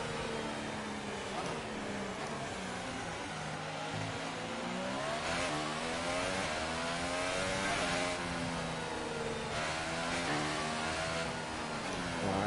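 Racing cars in the video game F1 2018 pass during a yellow-flag moment, their engines whining and sweeping in pitch under continuous game audio, with loud, steady, layered engine tones throughout.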